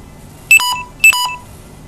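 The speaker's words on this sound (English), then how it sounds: "My crazy phone, my battery is dying." A phone sounds its low-battery warning as two short, sharp electronic beeps a half-second apart, close and loud over faint room tone.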